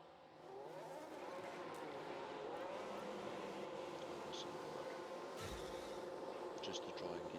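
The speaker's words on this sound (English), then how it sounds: "Some cars starting to go out now." Race cars head out on track in the F1 Manager 22 video game, with faint engine whines rising and shifting in pitch under steady ambient noise.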